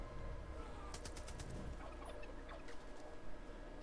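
Turkey gobbling inside the video game Far Cry 5, a few quick warbling bursts heard at moderate distance over steady game ambience, with faint gunfire-like clatter in the background.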